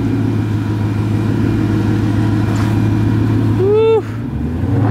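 A Ford Mustang engine drones steadily as the car is driven home from the shop. A loud, close, low rumble holds throughout, with one brief rising rev near the end before it drops back.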